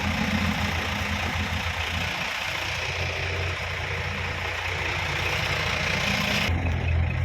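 A Kobelco SK60 excavator digging a five-metre-deep pond runs its diesel engine with a steady low rumble and drone, close and continuous, with a brief shift near the end.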